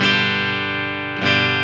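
Sustained distorted chord from a Firefly Telecaster-style electric guitar on its bridge pickup, played through a Fireball 25 amp and miked with a Shure SM57; a ringing chord decays, then a fresh strum swells back in, loud and close.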